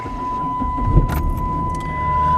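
A car that has sat unused since the day before starts cold, with a brief cranking burst followed by a steady, fairly loud idle hum close by, with no talking.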